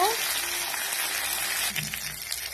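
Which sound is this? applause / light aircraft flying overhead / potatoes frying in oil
potatoes frying in oil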